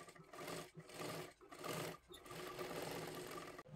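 A sewing machine stitches a young girl's lehenga dress, running in short fast bursts with brief pauses between runs, close and clear, with no talk.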